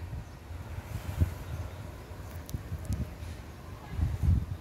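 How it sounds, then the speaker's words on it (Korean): Wind blowing outdoors beside an elementary school fence lined with arborvitae trees, a steady low rumble and rustle with gusts rising and falling, fairly faint and with no voices. "지금 바람이 불고 있습니다."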